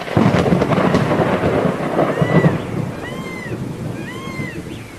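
Cartoon-style thunderstorm with steady rain hiss and rumbling thunder, loud at first and then easing, while bird-like chirps sweep in later over the continuing downpour.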